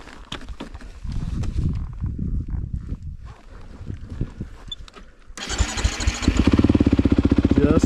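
A Beta 390 dual-sport motorcycle cranks and fires up partway through, then settles into a loud, close, rapid single-cylinder idle after some earlier rustling and handling noise.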